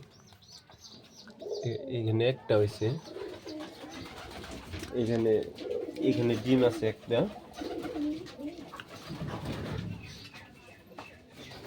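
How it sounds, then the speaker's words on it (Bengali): Pigeons cooing in a pigeon farm, soft repeated coos and chirps close by, while someone talks intermittently over them. "কবুতরের বাচ্চা আমার ফার্মে"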